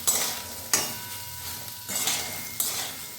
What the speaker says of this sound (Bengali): এগুলো দিয়ে 2-4 বার নাড়াচাড়া করে নেব